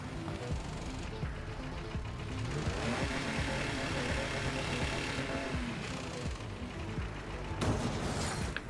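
A race car engine in a racing sim video game drones and revs continuously, with mechanical clunks and rattles under it and a brief burst near the end.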